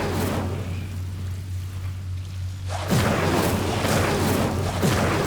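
Incendio fire spell cast in the Hogwarts Legacy video game, a sudden whooshing burst at about three seconds that swells into a dense crackling, rumbling roar over a low steady hum, with no talk.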